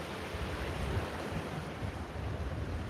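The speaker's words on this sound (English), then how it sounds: "it's a little bit windy today" Steady wind gusts outdoors beside a rock pool, a loud, continuous rushing roar buffeting the microphone with no voices.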